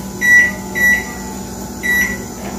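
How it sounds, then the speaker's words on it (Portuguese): A microwave oven runs with a mug cake inside, giving a steady close hum broken by a recurring high tonal whine that rises and fades at intervals. No one speaks. "Agora vamos colocar no micro-ondas por 1 minuto e 10."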